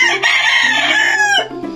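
A rooster crows loudly and close by, one long drawn-out call that breaks off near the end, followed by a brief lower cluck.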